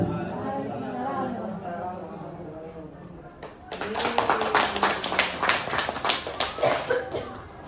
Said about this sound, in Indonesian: Bapak Ibu kasih semangat lagi dong tepuk tangannya